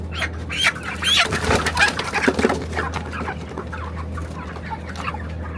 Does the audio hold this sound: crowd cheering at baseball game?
no